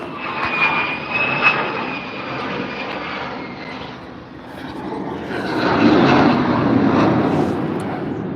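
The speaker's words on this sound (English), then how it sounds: "Seeing those planes" Planes passing overhead during a live feeding session, a broad steady engine roar that swells and fades across the whole stretch, moderately loud with no talk.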